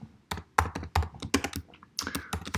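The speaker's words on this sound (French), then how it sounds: "je vais mettre un petit bout de texte dans lequel je vais écrire copyright" Typing on a computer keyboard, close and crisp, with irregular bursts of key clicks and a few heavier thumps.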